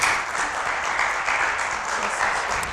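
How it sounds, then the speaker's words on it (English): A mayoral forum audience claps in a dense, steady wash of many hands that holds at an even loudness for a few seconds, with no clear voices standing out. "We can clap for ourselves"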